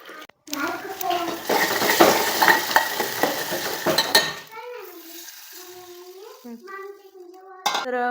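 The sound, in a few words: tempering kadhi, spices sizzling in hot oil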